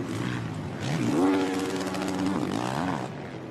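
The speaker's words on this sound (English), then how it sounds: "Revving the bikes to warn the lap traffic that they're coming through." Motocross bikes at a 450 class race at Washougal rev their engines, a loud, rising and falling mechanical roar with a sustained buzzing pitch that swells, holds and dips over a few seconds.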